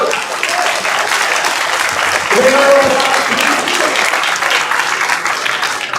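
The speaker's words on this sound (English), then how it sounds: "round of applause for these two teams first" Steady audience applause and cheering at an engineering physics student competition round, filling the room for two competing teams, with a few voices calling out over the clapping throughout.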